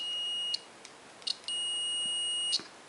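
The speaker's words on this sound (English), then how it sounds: "I use my multimeter in the beeper setting" A multimeter set to continuity beeps with two long, steady, high-pitched tones of about a second each, separated by short clicks and handling taps, in a quiet workshop while an OMC outboard motor is being tuned.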